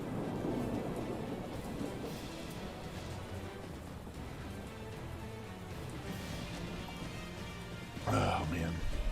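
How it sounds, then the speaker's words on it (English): Rain falls steadily in the background while low thunder rumbles softly underneath, with a louder burst of rumble near the end; the storm stays fairly faint and distant throughout. "Got a little rain in the background there."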